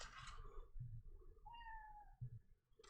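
Pet cat meowing indoors during gold panning, one short rising meow at moderate distance, with faint thumps and quiet background noise around it.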